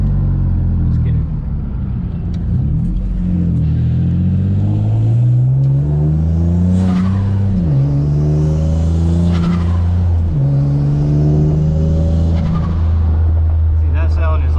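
A single turbo Nissan G35 after a street tune accelerates hard, its engine note climbing through gears with loud, close rumble and revving, under continuous talk.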